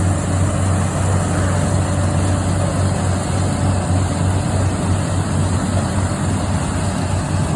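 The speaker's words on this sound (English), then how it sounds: "an international corn picker mounted on a Farmall, international Farmall" A Farmall tractor carrying a mounted International corn picker runs at a vintage farm equipment show, giving a steady, loud, low engine drone that holds unchanged throughout.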